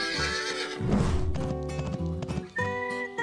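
A toy-farm horse in a barnyard diorama gives a loud, clear neigh, then its hooves clip-clop steadily as it moves away, with other harmonic animal-like calls overlapping near the end.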